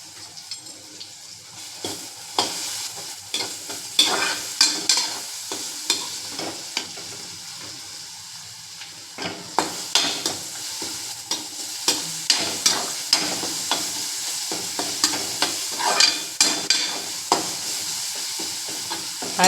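Curry leaves and ginger garlic paste fry in hot oil for a chicken pickle, a steady close sizzle broken by repeated scraping stirs of a spoon in the pan, with no voices.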